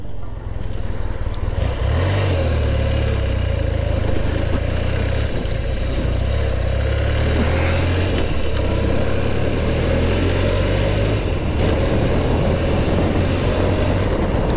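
A BMW R65 boxer-twin motorcycle engine runs steadily at a low, even idle, close and loud, with a constant throb and no change in pace.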